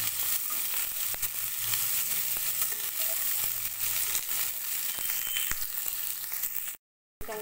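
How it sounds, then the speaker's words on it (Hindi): Capsicum chunks sizzle and fry in a kadai, a steady close crackling hiss with occasional stirring scrapes, no voices, before a sudden brief cut. "अभी यहाँ पे हमने जो कैप्सिकम का चंक्स रखा है उसको हल्का से फ्राई कर लेंगे"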